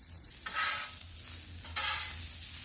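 Smash burgers and onions fry on a Camp Chef Explorer 2X double-burner camp stove, a continuous nearby sizzle with two sharp spatula scrapes across the griddle.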